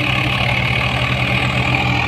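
Diesel engines of a JCB 3DX backhoe and a Swaraj 744 XT tractor stuck with a fully loaded trolley, a steady loud low rumbling drone at idle-like pace, continuous throughout.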